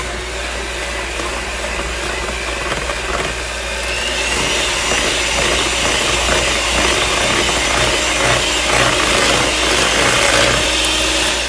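A loud electric hand mixer whirs continuously as it blends a ricotta mixture, its motor note rising and turning harsher partway through as the beaters work the thick mix. Nobody talks over it.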